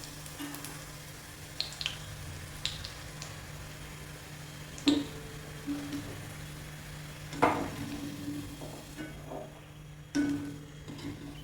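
Onions frying in hot oil in a pan while making ginger curry: a steady, moderate sizzle runs throughout, broken by a few sharp ticks and clicks of stirring.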